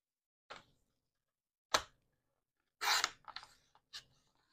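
Scissors snipping through a paper strip for a file folder panel in a paper-craft project, a few separate crisp cuts in a quiet room, with a short burst of rustling in the middle.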